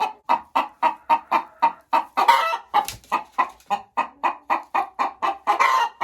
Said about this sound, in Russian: Тоже очень симпатичная курочка.